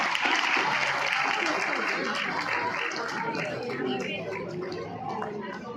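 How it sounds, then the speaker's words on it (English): Round of applause for student prize winners at a school annual day, a crowd clapping steadily at fairly close range while voices murmur and talk over it, fading slightly toward the end. "Let's give them a round of applause."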